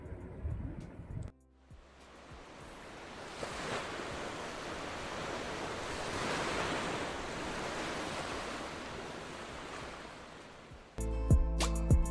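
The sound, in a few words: waves of the Arabian Sea at Dwarka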